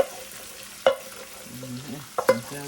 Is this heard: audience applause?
no